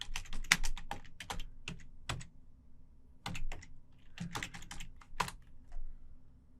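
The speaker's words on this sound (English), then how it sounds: "we're going to type service Apache 2 start." Computer keyboard keys clicked in quick irregular bursts while a command to start an Apache service is entered, crisp close taps with short gaps, no voice.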